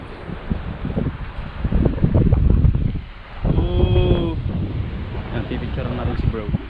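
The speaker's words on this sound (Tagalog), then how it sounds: "Ang sarap ng alon" Wind buffets the microphone over the wash of ocean waves at a black-sand beach, loud and rough, with a voice briefly heard partway through.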